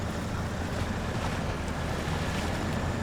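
Truck in the SnowRunner video game ploughing through deep floodwater in the Yukon, a dense continuous wash of splashing and surging water with a low rumble, steady and loud throughout, no talk.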